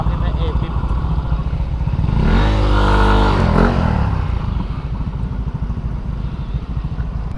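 A motorcycle on a ride through Infanta, Quezon Province, idles with a steady throb, then is revved in a rising and falling burst while it is moved, close and loud, with talk over the engine.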